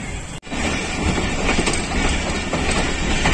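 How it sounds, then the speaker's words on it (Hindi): Bahauddin Zakaria Express passenger train departing Multan, heard as a steady, loud rolling rumble with a rhythmic clickety-clack of wheels over rail joints, continuous throughout after a brief dip at the start. "ढोल की थाप पर रुखसत हुई है जी जकरिया एक्सप्रेस।"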